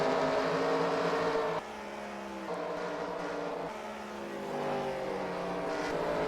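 Short track race cars competing at Orange County Fair Speedway, engines roaring and revving continuously with shifting pitch as cars pass, loud and sustained with small drops in level.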